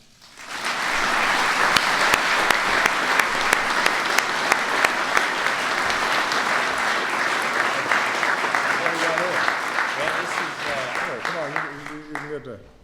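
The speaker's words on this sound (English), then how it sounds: "let's give a big round of applause for Kyle, his family, Joe Gibbs Racing, and the entire number 18 team" At the White House, a large crowd applauds NASCAR champion Kyle Busch, his family and the Joe Gibbs Racing number 18 team, clapping loudly and steadily for about twelve seconds before it fades as a voice begins to speak.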